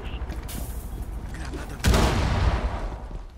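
A grenade detonates in Rainbow Six Siege after a stretch of low rumbling ambience, giving a sudden loud blast with a rumbling tail, while players talk over the game sound.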